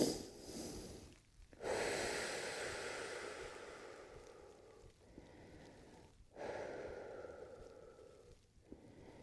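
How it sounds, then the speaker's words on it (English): Slow, heavy breathing held during a half frog stretch in a full-body strength workout: long, close inhales and exhales, about four breath cycles, audible alone with no talk. "Take a couple breaths here."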